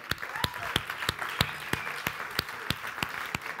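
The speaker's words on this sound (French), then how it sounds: "Ouais, vous pouvez l'applaudir." Audience applause at a Bordeaux youth event, a steady wash of many hands with sharp individual claps popping out roughly every third of a second, fairly close and continuous throughout.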